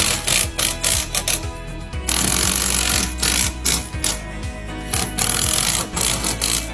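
An impact driver sets lag screws straight into wood to fasten the mount for a Bromic outdoor natural gas heater, giving close, loud bursts of rapid rattling hammering that stop and start repeatedly.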